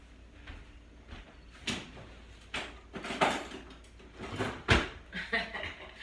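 A kitchen drawer slides open and shut with wooden rattles and clattering utensils, several scrapes and knocks spread over a few seconds nearby.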